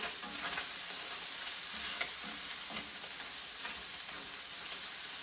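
Scallop fried rice sizzles in a frying pan under a steady, moderately loud hiss, with rhythmic scrapes of a spatula stirring the rice every second or so and no talking.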